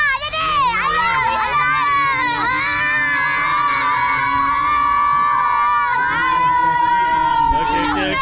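A crowd of children screams and shouts excitedly inside a mosque in Malaysia during Ramadan, with loud, sustained, overlapping high-pitched voices throughout.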